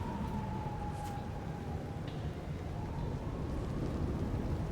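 In the video game Vampire the Masquerade Bloodlines 2, steady rain hisses while a faint, distant siren wails softly through the downpour.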